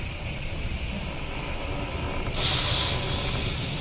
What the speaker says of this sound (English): Now the steam is coming out here instead of upstairs.